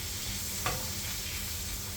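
A ribeye steak sizzles in a pan with melted butter, a loud, continuous frying hiss close to the mic with one brief crackling spit.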